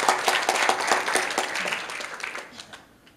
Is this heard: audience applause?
yes